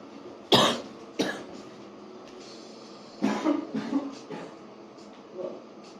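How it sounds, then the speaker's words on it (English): A person coughs in a few separate bursts, blamed on dust from old DVDs; two sharp close coughs come early, then a longer rough fit, with a quieter cough near the end. "I'm coughing like a chain smoker here."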